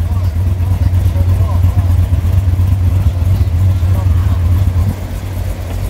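A Corvette C7 Stingray with a big cam and Z06 exhaust rumbles loudly and steadily at close range, a deep, lopey engine drone holding throughout with little change in level.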